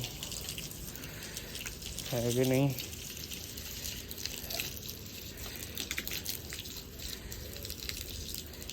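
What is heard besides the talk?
water spraying from a pipe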